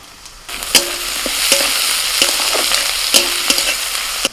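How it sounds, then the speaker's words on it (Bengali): Chopped onion and capsicum frying in a pan for pav bhaji, a loud close sizzle broken by a regular series of spatula scrapes and taps against the pan. "পেঁয়াজটা একটু ভাজা ভাজা হয়ে এবার দিয়ে দিচ্ছি ক্যাপসিকাম কুচি"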